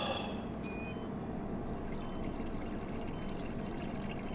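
Tap water runs in a steady, close, unbroken stream during handwashing in the survival game Green Hell, with no talk over it.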